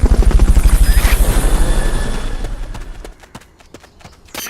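Fulton recovery helicopter in Metal Gear Solid: Peace Walker: a loud, rapid rotor thump pulses at the start, then fades and thins out, leaving scattered clicks and ticks as it departs.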